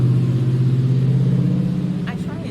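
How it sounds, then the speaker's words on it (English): Cars passing outdoors on a nearby road, a loud continuous low engine rumble that eases slightly toward the end, with a voice briefly audible over it. "these cars get on my nerves. You hear me?"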